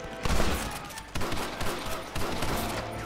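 Gunfire erupts in a Red Dead Redemption shootout against snipers in a window. Sharp rifle and pistol shots come in several quick bursts, loud and close, with no one speaking.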